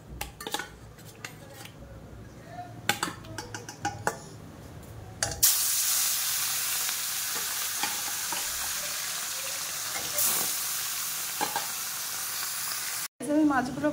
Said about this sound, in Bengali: মাছগুলো কেটে নিয়ে আসলাম, এবার ভাজা করব লবণ হলুদ মিক্স করে।